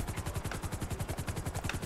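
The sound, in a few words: Buckingham Volatus helicopter flying in video game GTA 5 Online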